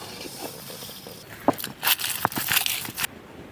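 Roasted chillies and spices are pounded to powder on a traditional stone grinding slab (ammi), heard as a series of close, sharp thuds and crunches at an uneven rhythm.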